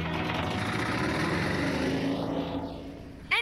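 A submarine engine in a VR game runs as a steady, loud, continuous mechanical drone with low rumbling harmonics, a brief sweeping tone rising and falling near the end, and no talk over it.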